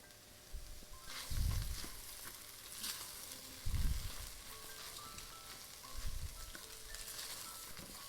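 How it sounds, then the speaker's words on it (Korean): Seaweed and mushrooms stir-fry in sesame oil in a pan, a soft continuous sizzle broken by three low scraping thumps as a utensil stirs the food, fairly quiet and close. "이제 미역 넣은 지 30초, 40초밖에 안 됐어요. 살짝 볶아주는 겁니다."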